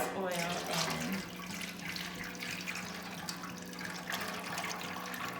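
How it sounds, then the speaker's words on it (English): Cooking oil being poured into a container for frying doughnuts makes a steady liquid glug and splash that continues throughout at moderate loudness. "So I'm gonna pour all of this oil in."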